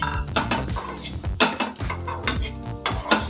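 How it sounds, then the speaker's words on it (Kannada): Grated coconut fries in a pan for a country chicken curry, a spoon scraping and clattering against the metal steadily and close up, with faint sizzling beneath. "ಸೊ ಇದನ್ನು ಕೂಡ ಹಾಕಿ ಚೆನ್ನಾಗಿ ಫ್ರೈ ಮಾಡಿ ಇಟ್ಕೊಳ್ಳೋಣ"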